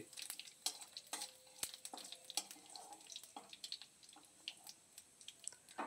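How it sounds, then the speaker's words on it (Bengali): Dry red chillies and black cumin crackling in hot oil, a quiet steady sizzle broken by repeated sharp stirring clicks and taps of a spoon against the pan, with no voices. "ওই তেলের মধ্যেই আমি শুকনো লঙ্কা এবং কালো জিরে ফোড়ন দেব।"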